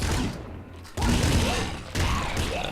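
Gunfire in the top-down shooter game Nuclear Throne comes as a rapid volley of loud shots, with bursts starting abruptly at about one-second intervals and a quiet gap between them.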